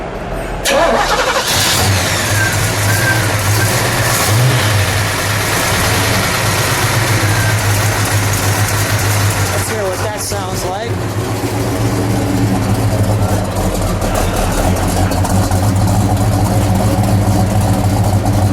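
A Pontiac 455 V8 in a 1971 Pontiac GT-37 cranks and fires up, then settles into a loud, steady, lumpy idle with a brief blip partway through, while people talk nearby.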